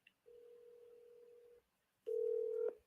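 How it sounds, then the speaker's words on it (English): A telephone line rings, heard as two long, steady electronic tones separated by a short silence, the second louder and clearer than the first, with no voices. "It's ringing."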